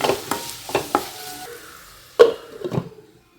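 Onions with salt are stirred in a frying pan for a Kerala-style chicken perattu, a spoon scraping in several short strokes over a soft sizzle, close and fairly loud, with a sharper scrape near the end.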